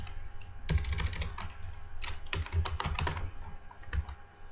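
Rapid keystrokes on a computer keyboard while code is entered in Visual Basic, a close burst of irregular clicky taps with short pauses, alone without talk.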